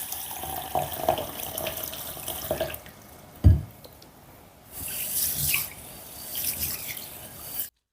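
Tap water runs and splashes over green gram (moong dal) being washed by hand in a kitchen sink, with a brief thump midway and a louder gush of water toward the end.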